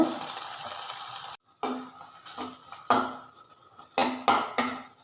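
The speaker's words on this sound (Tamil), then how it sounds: "நல்லா இஞ்சி பச்சை வாசனை போகிற அளவுக்கு நல்லா வதங்கணுங்க" Ginger fries in hot oil in a pan with a soft, steady sizzle, broken by a short silence and then sharp bursts as a spoon stirs and scrapes the pan.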